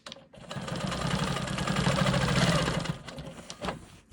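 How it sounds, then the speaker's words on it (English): A Quilt Maker Pro 20 quilting sewing machine stitches in the ditch between two fabrics, a steady close mechanical whir running continuously for about three seconds, then a brief pause and a short burst. "I'm gonna go ahead and stitch in the ditch between these two fabrics."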